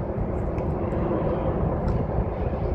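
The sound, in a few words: airplane flying overhead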